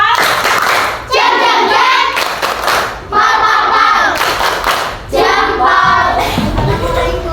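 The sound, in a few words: group clapping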